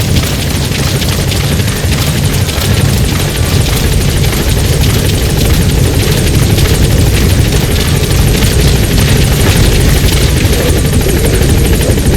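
A support helicopter arriving in Metal Gear Solid V on Xbox Series X, its rotor beating loud and close in a steady, unbroken thrum with heavy low rumble and rotor wash throughout.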